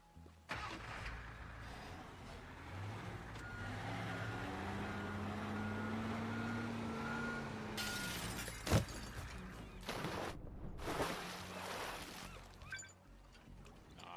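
A truck engine drives in a video game, headed into water. The rumbling motor holds a steady tone that rises in pitch, then gives way to sharp bursts of crashing or splashing near the end.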